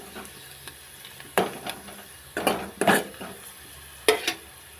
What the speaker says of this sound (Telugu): చికెన్ ముక్కలు అయితే వేసుకుంటున్నాం